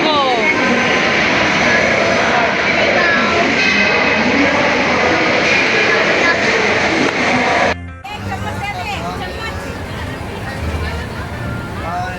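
A jet airplane roars loudly overhead as a steady broadband engine rumble, with children and adults talking over it, before the noise cuts off and quieter chatter continues.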